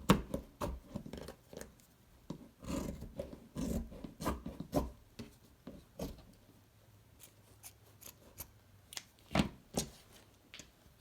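Scissors snip and rustle through fabric while cutting out a no-sew face mask, a quiet, irregular series of close crisp cuts and shuffles with pauses between them.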